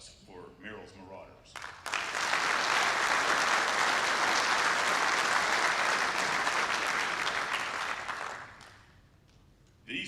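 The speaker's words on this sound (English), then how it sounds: "Please give a round of applause for Merrill's Marauders." An audience at the Ranger Hall of Fame ceremony bursts into loud, sustained applause for Merrill's Marauders. A voice speaks briefly just before the clapping swells, and the applause fades out after several seconds.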